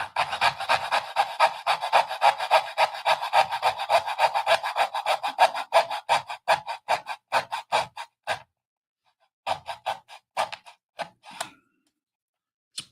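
A hand saw cuts wood for a 1:24 scale OcCre San Francisco cable car model kit, in fast rhythmic rasping strokes that slow, pause briefly, then resume as a few final short strokes, close and loud.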